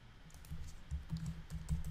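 Quiet, quick keystrokes on a computer keyboard while typing Python code, a run of soft irregular clicks and thuds close by, with no talk.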